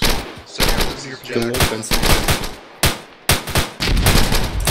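Automatic rifle and machine-gun fire in an ARMA 3 military firefight during a compound assault, with sharp repeated bursts close by and voices speaking over the shooting.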